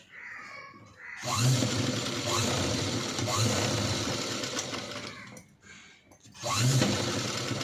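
A sewing machine stitches a princess cut blouse in steady whirring runs, briefly stopping and then restarting, loud and close.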